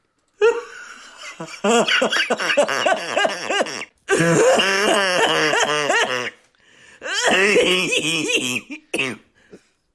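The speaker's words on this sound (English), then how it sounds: "I'm sure she'd cough like that at the doctor's." A woman coughing in repeated harsh fits before a live audience, close and loud, broken by short pauses, sounding almost like laughter.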